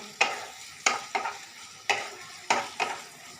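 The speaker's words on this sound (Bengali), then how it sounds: "সেই কিমাটা এতে দিয়ে দিলাম, এর সাথেই কষে নেব।" Chicken mince frying in a pan with ginger and garlic for a keema, stirred with about six sharp, close scraping strokes over a soft sizzle, no talking.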